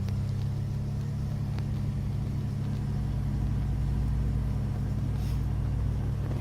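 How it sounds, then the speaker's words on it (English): A 2018-or-newer Ford Expedition's engine runs steadily at idle, a continuous low rumble close by with no clear start crank, alone without talk. "Now we'll just fire up the vehicle and let everything load up."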